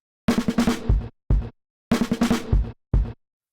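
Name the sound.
breakbeat fill loop sped up 20 BPM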